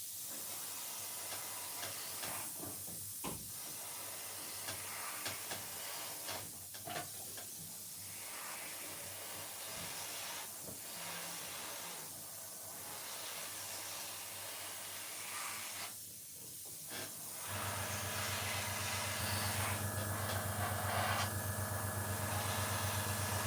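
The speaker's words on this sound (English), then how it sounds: "So you can hear the airbrush now, yeah?" An airbrush blowing plain air with no paint while weathering a Class 40 model locomotive, heard as a continuous close hiss that turns louder with a deeper hum toward the end, without talk.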